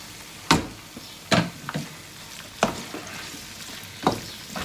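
Lamb pieces hit hot masala in a pot, setting off a steady sizzle broken by several sharp stirring clatters and thumps at irregular intervals, close and fairly loud with no talking.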